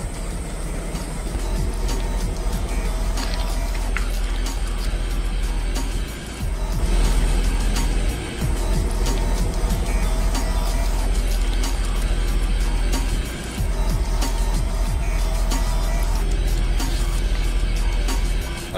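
Heavy tyres of a 24-ton lorry roll over a G-Shock Full Metal watch, giving a loud, continuous low rumble with engine drone and brief dips as each tyre passes.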